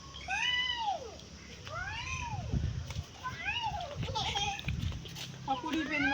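A cat meows repeatedly, about five rising-and-falling cries at a moderate distance, with children's voices and background chatter around it.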